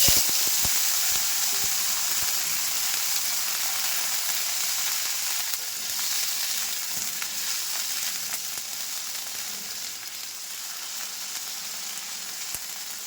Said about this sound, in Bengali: এবার আমি বেটে রাখা মশলাটা অ্যাড করে দিচ্ছি কেটে রাখা আলুগুলো দিয়ে দিচ্ছি